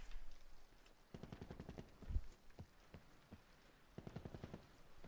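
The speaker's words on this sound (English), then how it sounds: "I can hear gunfire." Distant gunfire in a Call of Duty Black Ops 4 custom match, quick bursts of automatic shots popping faintly in clusters, with a fainter crackle between volleys and no talk over it.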